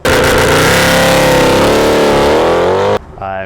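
A Mercedes C63 Edition 125 V8 revs hard and loud, its pitch climbing steadily for about three seconds before cutting off abruptly, followed by a brief lower blip.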